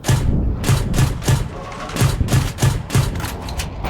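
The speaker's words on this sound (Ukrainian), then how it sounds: "Знову по мені хтось стріляє, відпрацьовує." Gunfire strikes a tank in the PC tank combat game Gunner HEAT, heard as a rapid series of loud, punchy thuds and cracking impacts, close and dense, with brief pauses between bursts.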